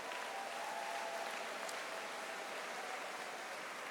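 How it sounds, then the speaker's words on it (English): A crowd at a school convocation applauds, a steady, even wash of many clapping hands held at a constant level throughout. "let's give everybody a round of applause for that accomplishment"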